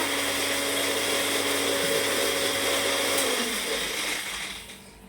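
A mixer grinder grinding pepper into powder whirs loudly at close range, a steady high-pitched motor roar that winds down and fades near the end.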